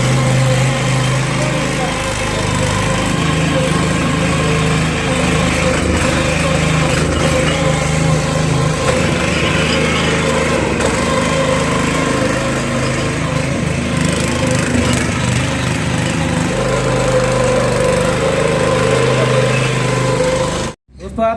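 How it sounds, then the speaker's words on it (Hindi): A small 7 to 7.5 hp power weeder mini tractor engine runs steadily and loud with a gritty, churning rumble while tilling a field, continuing for about twenty seconds before cutting off abruptly. "आप देख रहे हैं किस तरह से मिनी ट्रैक्टर काम करेगा"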